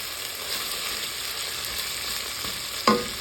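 Chicken karahi fries in a pan while being stirred, a continuous close sizzle with soft scraping passes and a sharp utensil knock against the metal near the end; no talking.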